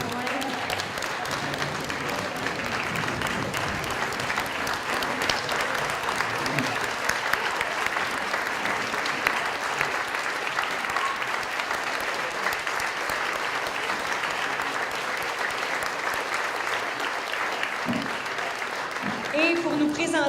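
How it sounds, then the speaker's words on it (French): Standing ovation at a French-language entrepreneurship gala for 16 finalists, a long, loud, unbroken wall of clapping from a large audience, with voices murmuring underneath and a few louder cheers near the end. "On devrait leur faire une ovation debout pour les applaudir."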